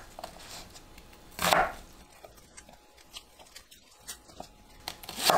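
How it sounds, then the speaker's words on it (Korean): A knife cuts onion into large squares on a board, giving one loud chop followed by softer, scattered cutting knocks. "양파를 네모 모양으로 큼직하게 썰어주세요"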